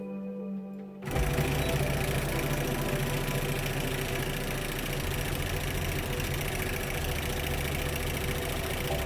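A sewing machine runs steadily, stitching a pillow with a continuous close, loud mechanical whir that starts abruptly after a second of quiet and carries on unbroken.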